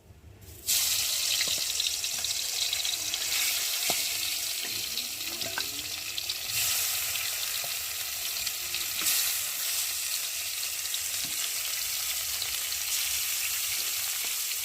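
Parshe fish fry in hot oil with a steady, bright sizzling hiss that starts abruptly and continues evenly, with a few faint clicks and knocks from the pan.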